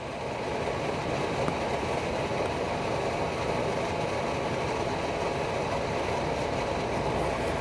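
A forced-air bullet heater runs loudly in a work shop, giving a steady, unbroken jet-like roar that stays constant throughout with no talking.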